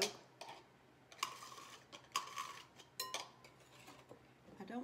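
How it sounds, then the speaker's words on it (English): Whisking an egg yolk into a bowl of whole milk with sugar, salt and vanilla: quiet, scattered metallic clinks and scrapes of the whisk against the bowl, close by, with no talking. "I am fixing to whisk in one egg yolk."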